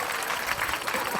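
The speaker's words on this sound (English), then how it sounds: "give our clients a round of applause" Clapping from an online audience at a live coaching session sounds as a dense, steady patter of many hands, close and even, lasting about a second with no clear voices.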